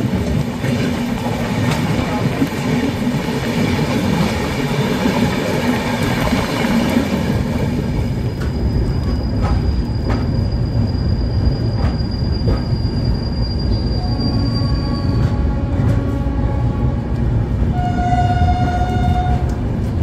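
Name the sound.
passenger train running on the rails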